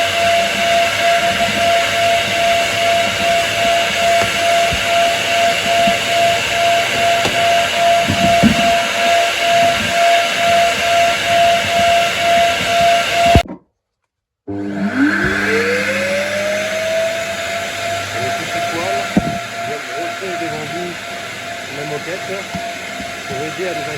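BigBoi SuckR Pro Plus air blower running loud and steady, a high whining tone with broadband hiss, cutting out briefly then spinning back up with a rising whine and continuing.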